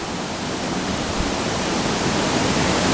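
A river rushes through a gorge far below a viewing platform on the Ingleton Waterfalls Trail in the Yorkshire Dales, a steady, loud, broadband roar without any pause.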